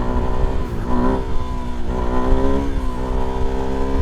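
A Suzuki DRZ400SM supermoto motorcycle engine revs loud and close, its harmonic drone rising and falling in steady surges as it pulls through the gears.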